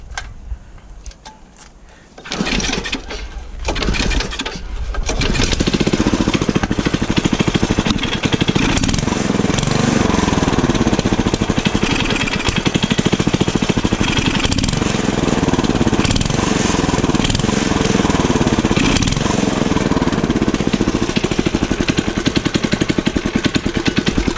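A small go-kart engine sputters to life after a couple of seconds of quieter noise, then runs loud and steady with a rough, buzzing idle throughout.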